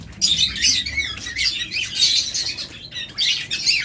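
Many birds in a bird shop with lovebirds, budgerigars, Java sparrows and cockatiels, a dense, close, continuous mix of high chirps, tweets and squawks with occasional wing flutters and no talking.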